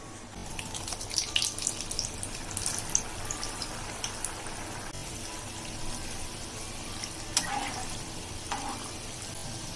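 Kova jamun dough balls fry gently in hot oil over low flame, a faint continuous sizzle and bubbling with occasional small splashes and utensil clinks.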